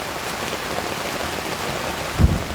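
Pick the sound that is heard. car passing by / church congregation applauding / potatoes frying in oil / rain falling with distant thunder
rain falling with distant thunder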